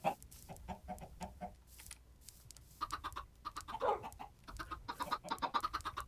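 Chickens cluck in short, repeated bursts inside a coop in Minecraft, a busy run of clucks and squawks that pause briefly and then resume, fairly close and clear.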